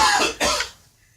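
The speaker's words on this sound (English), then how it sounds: "I'm just coughing." A person coughs twice close by, two short rough bursts in quick succession, the second trailing off into quiet.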